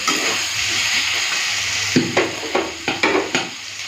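Potato and cut cabbage frying with spices in a pan: a steady close sizzle, then a run of quick scraping stir strokes in the final two seconds.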